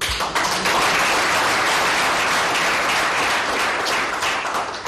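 An audience at a gathering of Kinshasa mothers with the First Lady applauds steadily, dense clapping holding at an even level for several seconds before easing slightly at the end.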